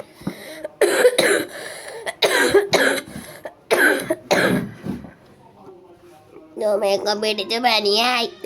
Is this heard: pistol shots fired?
no